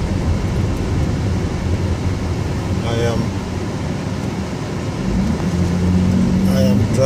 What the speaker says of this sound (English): I am driving out at downtown Chico, so Chico, California